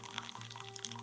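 Water pours into a cooking pot in the VR game Innkeeper VR, a brief, soft splashing stream over a faint steady hum.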